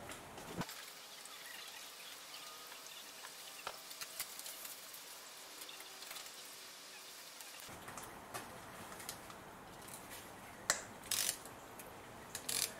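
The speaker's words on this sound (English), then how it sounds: "start loosening the bolts that hold the actual sump pan in there" Rapid ratchet clicking runs continuously while loosening the transmission sump pan bolts on an automatic Mercedes 190E W201, with faint workshop handling and a few sharper clinks toward the end.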